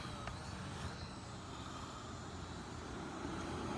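A Vivitar 360 Skyview drone in flight makes a steady, faint whirring drone with outdoor background noise. It stays even and continuous throughout, with no speech.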